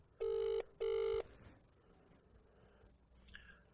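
Outgoing cold-call ringback tone, two clear electronic rings in quick succession, followed by a quiet line hiss and a faint brief tone at the end.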